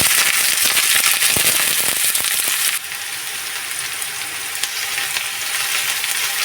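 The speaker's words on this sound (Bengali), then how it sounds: "এগুলো দিয়ে আমি ভালোভাবে লালচে করে ভেজে নেব।" Chopped medium-size onions sizzle and crackle steadily in hot oil in a pan, a loud, dense frying hiss that shifts slightly midway, likely from stirring.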